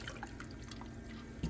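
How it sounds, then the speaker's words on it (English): A brine of water, sugar and salt being stirred in a pot, with soft close sloshing and light liquid swirling over a brief moment, followed by a small knock at the end. "So we're just gonna give it a quick stir."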